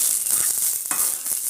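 Chopped tomatoes sauté in a pan for a Tamil chow chow (chayote) kai kulambu, giving a steady, loud hiss of sizzling with faint stirring scrapes throughout and no voices.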